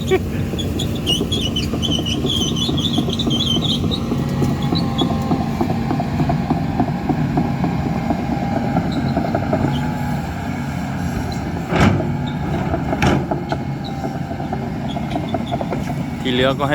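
A loud engine rumbles and revs steadily throughout, with a couple of sharp clanks near the end.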